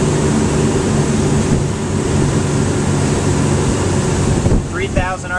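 A Formula boat powered by a Yanmar diesel runs on plane at 3,000 RPM, giving a loud, steady engine drone mixed with heavy wind and water rush, and a voice briefly begins to speak near the end.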